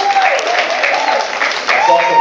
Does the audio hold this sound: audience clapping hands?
yes